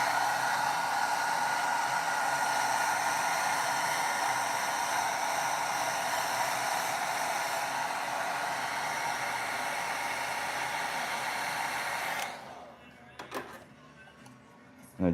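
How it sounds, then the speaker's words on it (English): A hair dryer blows steadily and loudly on fresh paint on a skateboard deck, a constant broadband whoosh for about twelve seconds before it cuts off, followed by a few soft handling knocks. "let's give this a quick blow dry"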